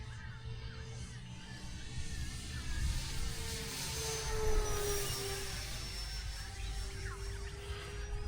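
An E-flite Twin Otter 1.4 m twin-engine RC plane flies overhead outdoors. Its motors make a continuous whining drone that shifts in pitch as it passes at a moderate distance.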